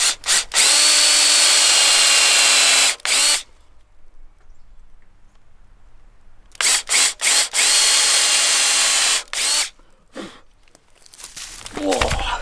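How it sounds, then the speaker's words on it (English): A power drill bores into wood for a swing set build in loud sustained bursts, first a long run, then several short stuttering pulses separated by quiet gaps, ending with rustling handling noise. "This is not the correct drill bit for the job"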